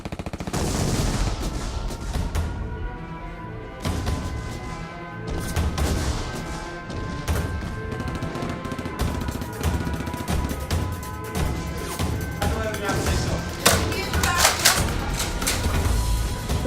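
Nerf guns fire in a chaotic family Nerf battle, with rapid pops, clacks and thumps scattered throughout amid scuffling, shouts and busy background noise.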